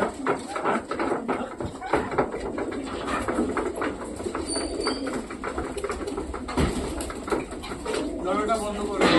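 Pigeons newly brought home from a market coo repeatedly at close range, soft throaty calls overlapping amid shuffling and handling noises, with a person speaking over them at times.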